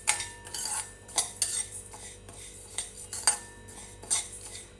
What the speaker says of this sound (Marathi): तर आता यांना आपण व्यवस्थित यांना कढईमध्ये भाजून घेऊया